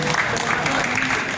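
Audience applause in an Indonesian talk or seminar hall, a dense steady wash of clapping lasting just over a second, loud and continuous with no voices on top.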